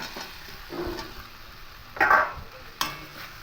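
Spice paste fries in a pan with fried potatoes, a soft continuous sizzle broken by the scrape and clatter of stirring, with no voices.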